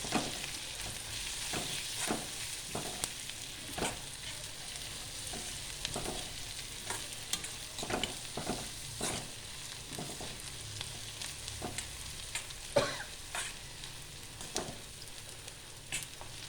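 Chicken with salt, garam masala and spices is mixed in a pan for chicken kondattam, with a steady soft sizzle broken by frequent, irregular scrapes and knocks of a spoon.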